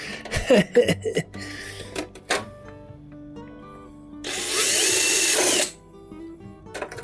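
A power drill bores through a lid for a shrimp tank in one loud, steady burst of about a second and a half, preceded by scattered handling clatter, knocks and brief tool noises.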